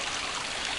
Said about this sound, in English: We got some running water coming over this dam.